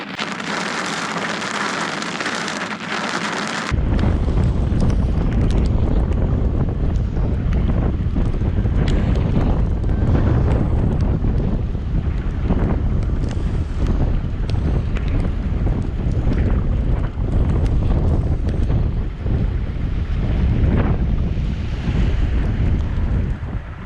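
Heavy rainstorm with strong wind at a camp in Kruger National Park, a loud, steady roar of rain pounding surfaces and gusts buffeting the microphone, continuous throughout after a brief opening moment, with no voices.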